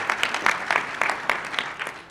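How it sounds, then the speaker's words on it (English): A small audience at a Poudre Pioneer award event claps in a brief, loose burst of scattered handclaps, moderately close and fading out after about two seconds. "let's clap for them"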